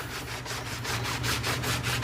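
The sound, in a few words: shoe rubbing back and forth on leather floor mat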